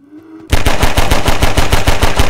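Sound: gunfire from the video game Half-Life 2

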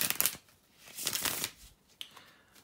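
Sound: shuffling tarot cards

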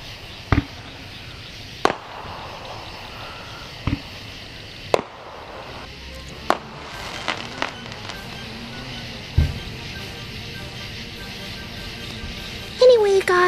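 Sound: fireworks going off outdoors at night

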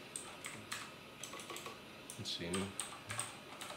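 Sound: typing a Wi-Fi password on a keyboard

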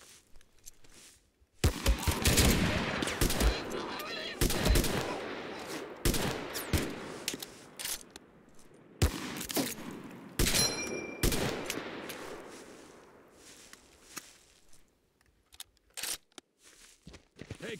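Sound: gunfire in Mud and Blood video game

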